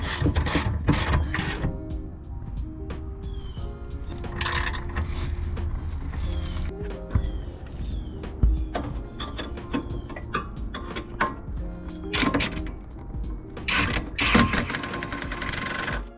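A ratchet tightening coilover bolts on a Mazda NC Miata, repeated close mechanical clicking bursts of the pawl with metallic clanks in between, loud and rhythmic, no talking.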